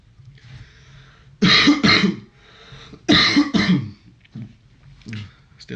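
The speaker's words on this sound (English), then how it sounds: "Still having a bit of a cough" A lingering cough heard close up during a chess session: two bursts, each a pair of sharp, harsh coughs, with quiet breathing between and faint throat sounds afterward.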